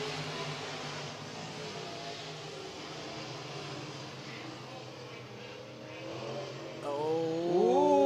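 Race cars run laps at RRCS Speedway, a steady distant drone of several engines in a pack that swells louder near the end as cars come closer.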